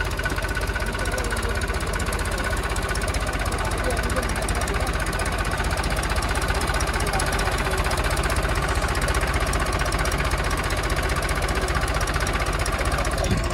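Mahindra 265 DI, Sonalika DI 750 and Swaraj tractors run slowly together in a power test, a steady, dense diesel chugging and knocking that fills the whole stretch without letup.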